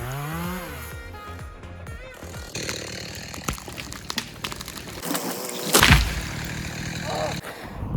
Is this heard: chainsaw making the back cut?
yes